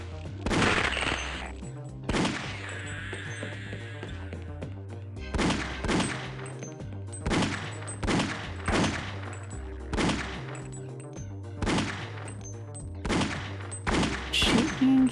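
Video game gunfire rings out in a long series of sharp, evenly spaced shots, roughly one every second or so, loud and distinct against a low droning background, after an initial burst.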